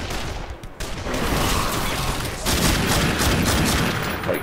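Gunfire in the video game The Darkness II rattles in dense, continuous bursts, loud and close, with a brief lull before the shooting resumes.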